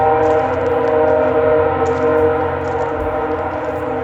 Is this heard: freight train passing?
yes